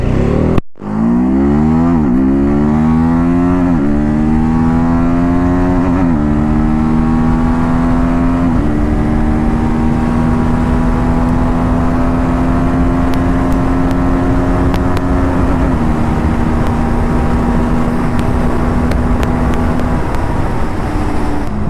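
A TVS Apache RTR 310 motorcycle rides on an open road, its engine droning loud and steady close by as the pitch climbs and steps through several gear changes with long held tones, and no one speaking.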